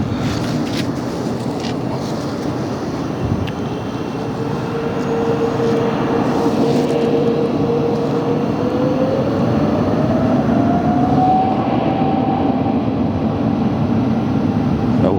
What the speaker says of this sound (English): Away she goes with a big, beautiful Boeing 777-300.